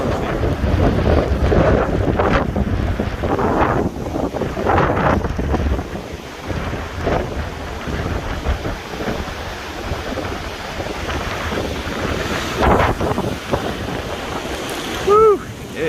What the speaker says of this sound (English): We are on the east coast, so we're still getting a lot of wind